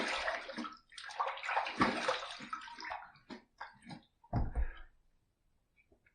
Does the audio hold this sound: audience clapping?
no